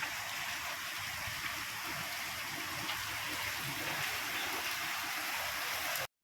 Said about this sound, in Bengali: বাহিরে তখন ঝুম বৃষ্টি